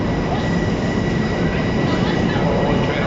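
An LIRR Long Beach train pulls out of Penn Station, its loud, steady rumble close by with wheel squeal and a faint clickety-clack over the whole stretch.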